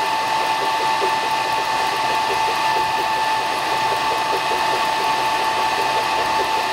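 A Mr Carve M1 Pro rotary roller turns a workpiece during laser engraving, giving a steady, loud mechanical whir with a fast repeating ratchet-like ticking and a constant high tone, with no talk over it.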